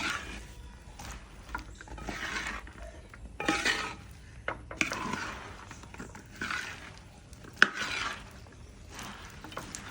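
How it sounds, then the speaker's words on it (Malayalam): A cumin-spice mixture is stirred in a pot, the spoon scraping and clinking against the metal in steady, repeated strokes close by, with no talking. "ഇനി നല്ല ഇളക്കി കൊടുക്കുകയാണ്"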